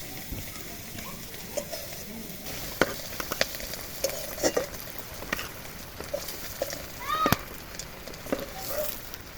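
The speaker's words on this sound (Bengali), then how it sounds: "আমি কড়াইটাকে আটটু তেল দিয়ে দিচ্ছি আমি আমার একইভাবে ছোটো ছোটোগুলো পিঠেগুলো এইভাবে দিয়ে দিচ্ছি তেল" Small crab-shaped pitha fry in oil in a wok, giving a continuous, moderate sizzle. Scattered taps and clinks from utensils recur over the hiss throughout.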